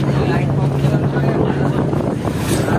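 A boat crosses open sea off Tamil Nadu with a steady, loud engine drone and gusty wind buffeting the microphone, while people talk in the background.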